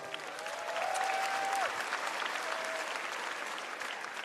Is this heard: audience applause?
yes